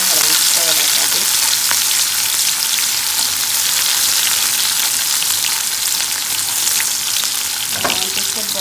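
Ackee and saltfish sizzling and frying steadily in a pan while being stirred, a loud continuous crackle with occasional scraping stirs close up.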